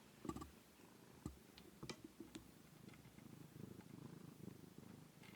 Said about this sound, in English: I hope you guys can hear that purring.